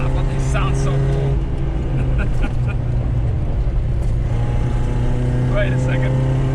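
A vintage Japanese muscle car engine runs on carburetors in need of adjustment, holding a steady, loud idle with a throbbing low hum and occasional faint knocks on top.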